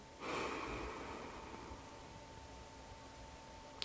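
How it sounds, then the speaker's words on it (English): One slow, deep breath drawn in during an adductor stretch, a soft airy inhale that swells at the start and then tapers into a long quiet hiss, close and gentle with no voice. "Take a breath in"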